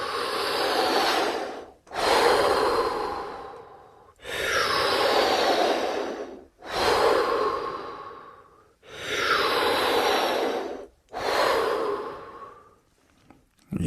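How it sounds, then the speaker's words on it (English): Shamanic-style breathwork: six deep, loud breaths drawn in and pushed out through the mouth, each a long airy rush separated by short pauses, close and unaccompanied. "Each breath is in through the mouth and out through the mouth"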